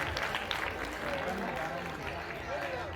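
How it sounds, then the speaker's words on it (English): An audience at a college festival prize distribution applauds the winners with steady, dense clapping throughout, while a voice speaks over it. "I request all the audience to please clap for all the winners of Manthan"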